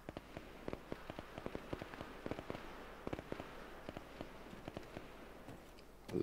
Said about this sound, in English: A lot of shooting going on over there.